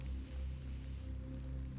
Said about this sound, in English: Let's use the repair spray.